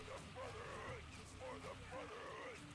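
Dogs barking in the C&C Rivals strategy game, a few yipping barks sitting in a dense mix of game effects and background sound at moderate level.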